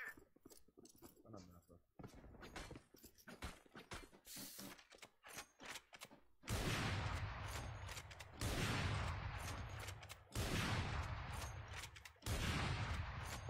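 Gunfire in the mobile shooter Free Fire Max crackles in sharp clicks and rapid bursts, then in loud sustained volleys that stop and restart several times, with game effects and clicking between them.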